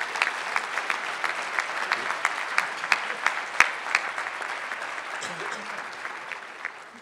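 An awards-ceremony audience applauds a nominee at the Mary Catherine Strobel Awards, a sustained spread of many hands clapping with sharper individual claps standing out early and gradually thinning toward the end.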